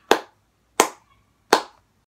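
Three crisp, close hand claps in a slow, even rhythm, each a sharp smack that dies away fast, with quiet between and no voices.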